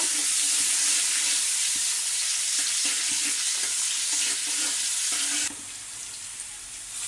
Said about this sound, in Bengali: পেঁয়াজটাকে আগে ভালো করে ভেজে নেব।